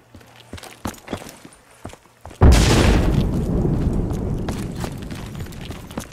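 A Hellstorm missile explodes in Call of Duty: Black Ops III. Scattered footstep-like taps come first, then a sudden heavy boom that rolls on as a loud, sustained rumbling roar.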